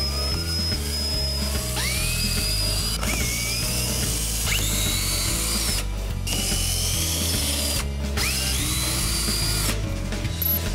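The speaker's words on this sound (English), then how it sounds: "a cordless drill comes out real handy for that" A cordless drill removes screws around the base of a Laguna IQ CNC router, whirring in repeated bursts, its pitch rising as it spins up, steady mechanical noise with short ratcheting pauses between runs.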